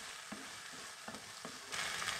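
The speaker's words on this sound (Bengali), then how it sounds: "আলু ভাজা হয়ে ঘুগনির মশলা কষাকষি পর্ব হচ্ছে" Potatoes and spices for ghugni frying in a pan, a steady close sizzle with a few sharp spatula scrapes and stirring knocks, growing brighter and louder near the end; no one speaks.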